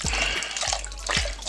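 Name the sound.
pouring beef stock into soup pot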